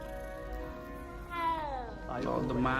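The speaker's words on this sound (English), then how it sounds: "Ooh, that's the cat." A cat meows in the video game Hogwarts Legacy, giving two or three drawn-out, wavering mewing calls at moderate volume over a steady bed of game music and ambience.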